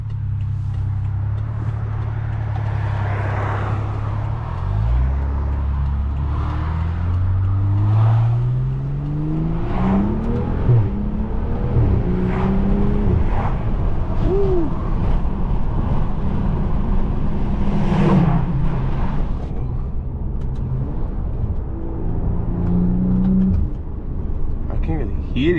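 A BMW F10 in Sport Plus mode accelerates from inside the cabin, its engine and intake note rising through several gear pulls with steady road and tyre noise underneath, while someone talks over it at intervals.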